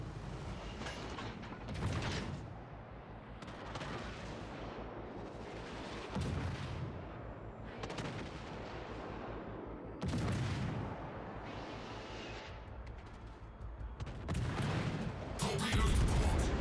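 The Hindenburg's heavy warship guns in World of Warships Legends fire in loud booming salvos, roughly every two to four seconds, over a constant hum of game ambience.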